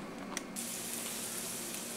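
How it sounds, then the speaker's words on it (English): Onions sizzling in a hot pan for a meatloaf hash, a steady, fairly quiet hiss of frying that stays even throughout with no talking. "I'm sure you can hear that sizzle"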